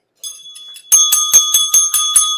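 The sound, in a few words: bell being rung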